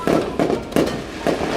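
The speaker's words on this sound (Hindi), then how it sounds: "पॉप पॉप पटाखे, ये देख ऐसे फोड़ते इसे।" Pop-pop firecrackers snapping off in four sharp, separate cracks at uneven intervals, loud and close, with a voice faintly present underneath.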